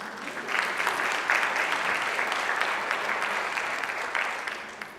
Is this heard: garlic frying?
no